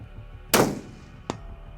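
A single sharp rifle shot from a Tikka T3x Compact fired at a 200-yard target cracks loudly and decays, followed by a fainter brief metallic report moments later.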